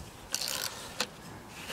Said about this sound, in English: So first, undo with the 10mm your battery terminal